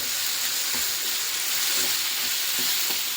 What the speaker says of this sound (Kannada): ಇದನ್ನೆಲ್ಲ ಚೆನ್ನಾಗಿ ಫ್ರೈ ಮಾಡೋಣ.